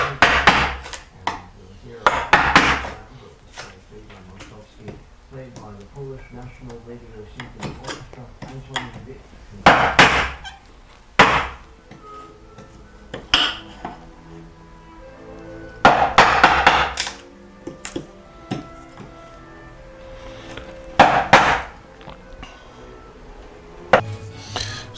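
A chisel driven by a mallet into a soft pine board, sharp wooden thunks in short clusters of several blows separated by pauses, close and loud, with someone talking between the strikes.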